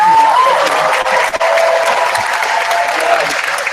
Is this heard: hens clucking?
no